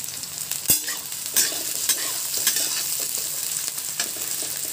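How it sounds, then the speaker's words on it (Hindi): Onions and green chillies fried in a pan: a dense, bright sizzle runs throughout, punctuated by several sharp spatula scrapes and knocks at irregular intervals, close and fairly loud without speech. "अब इसमें हम प्याज डाल देते हैं। प्याज को भी अच्छे से लाल कर लेते हैं।"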